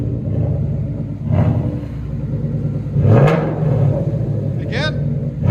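A car with an aftermarket exhaust revving under throttle, a deep rumbling engine that swells in two bursts, close and loud, with a person talking over it.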